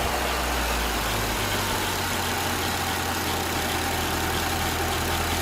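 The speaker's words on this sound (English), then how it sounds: "Okay, it started missing a little bit now, so it's going to die any minute now." A Ford Mazda car engine running low on fuel idles with a steady mid-low drone, starting to miss and stumble, the running heard alone with no talk.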